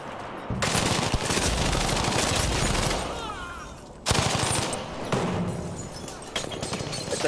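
Battlefield V combat with sustained, dense machine-gun bursts and heavy gunfire layered over rumbling explosions. The firing runs loud and continuous, drops briefly, then resumes in rapid volleys, with a voice speaking at times underneath.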